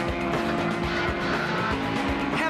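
Race cars running at the Twingo Cup race in Bogota, Colombia, with steady loud engine roar and tire noise and several sharp swells as cars pass close by, continuous throughout.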